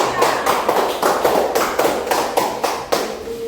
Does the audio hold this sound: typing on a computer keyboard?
no